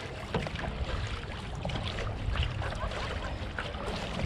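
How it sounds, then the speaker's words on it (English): Outrigger canoe being paddled through water with aggressive strokes, a wash of splashing, rushing water and wind noise with soft repeated stroke sounds, fairly faint, with no talking. "get that boat moving. Good aggressive strokes."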